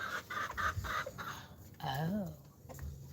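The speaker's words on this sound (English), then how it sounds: "Do you hear my chicken outside? Or my rooster?" Backyard chickens and a rooster cluck outside at a moderate distance, with a few choppy clucks early on and a rising, wavering call near the middle, heard from indoors.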